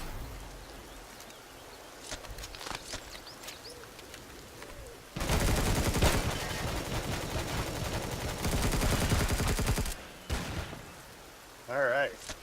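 Sustained automatic gunfire from a fight with a pack of raptors in the survival game Empyrion: Galactic Survival, a loud dense burst of rapid shots lasting several seconds, with quieter scattered shots and talk around it.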